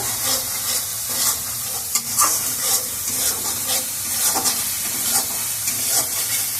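Lilua tossed into a pan with prawns and a little water, sizzling loudly and hissing with steam as a spatula stirs in quick scraping strokes throughout.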